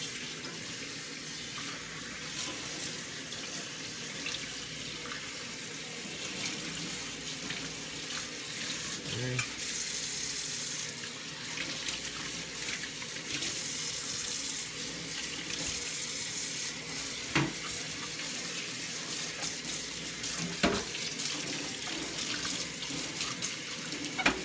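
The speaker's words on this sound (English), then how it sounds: "And then with a good rinse." Juicer parts rinsed under a running tap: a steady, loud rush of water into a sink lasting throughout, with occasional clinks and knocks as the pieces are handled.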